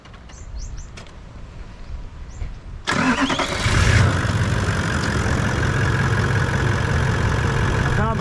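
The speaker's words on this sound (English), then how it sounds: "we're gonna try to start the engine and see if the snake drops out or what happens" A car engine cranks and catches, then settles into a steady, loud idle that runs on to the end, with no talk over it.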